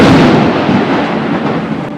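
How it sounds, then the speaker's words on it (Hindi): Thunder rumbles through a stormy night of heavy rain, a single loud rolling crack that slowly fades over two seconds. "तूफानी बारिश और बिजलियों की गड़गड़ाहट के बीच"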